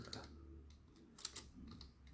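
Fingers type on a computer keyboard in quick, soft clicking bursts at low volume, with a slight pause partway through and no speech.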